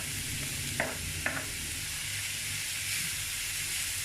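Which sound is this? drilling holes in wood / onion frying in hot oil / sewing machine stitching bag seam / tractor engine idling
onion frying in hot oil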